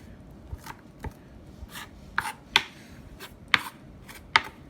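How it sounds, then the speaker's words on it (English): A knife chops food finely with a series of sharp, uneven taps, about eight distinct cuts in under five seconds, close and clear. "I'm just going to give it a little bit more of a finer chop"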